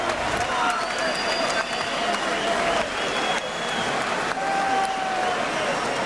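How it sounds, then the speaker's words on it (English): A sellout crowd at a boxing arena applauds and cheers for Ricky Hatton after his IBF junior welterweight title win over Kostya Tszyu, producing a dense, steady roar of clapping that carries through the whole stretch. "No doubt to be saluted momentarily by this sellout crowd."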